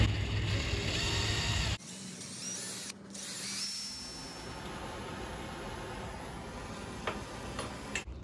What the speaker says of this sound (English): I got a 1/4-inch Forstner bit and the chuck drill. I'm just gonna send a little pocket right here behind the hook hanger.